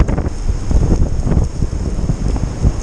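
Strong gusty wind buffets the microphone on a high, exposed spot during a February metal-detecting outing, a loud, continuous low roar that swells and eases with each gust.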